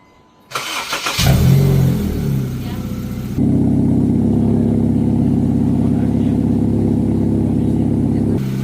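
A 2008 Honda Civic FD 1.8 engine with an aftermarket exhaust cranks and starts, then revs and settles into a loud, throaty idle with a deep, rumbling exhaust note, close by.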